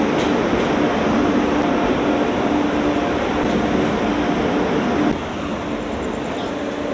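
Inside the 12343 Darjeeling Mail from Kolkata to NJP, pulling into Bolpur Shantiniketan station: a loud, steady carriage rumble with no talk, easing to a slightly lower level near the end.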